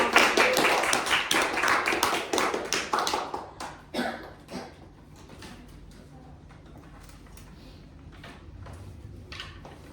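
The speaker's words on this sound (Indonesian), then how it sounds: "Beri tepuk tangan dong teman-teman buat kelompok ini." Classmates clap for a group called to the front of a classroom during a microteaching session, a dense burst of hand claps that thins into scattered, fading claps after about four seconds.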